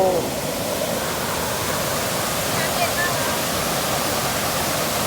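Water pours steadily down a waterfall, a loud, close, unbroken broadband rush that stays constant throughout with no distinct pauses.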